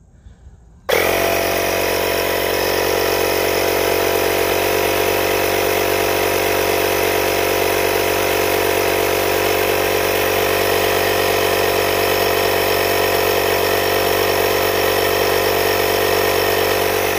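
A SKIL PWR CORE 20V dual-function 160 psi inflator (IF5940-00) pumps up an off-road tire from 30 to 35 PSI. It switches on abruptly after a second and then drones loudly and steadily, close by.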